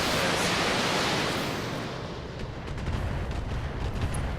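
BattleTech weapons fire in a multiplayer match: a loud, dense roar of blasts and rumbling explosions fills the opening moments, then eases into a softer sustained rumble with scattered crackling hits, and no talk.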